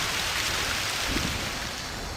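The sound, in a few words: Amazon downpour rain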